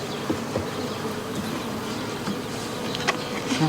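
Bees buzz steadily close by, a continuous droning hum with occasional louder passes.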